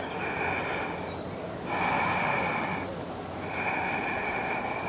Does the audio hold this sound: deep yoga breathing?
yes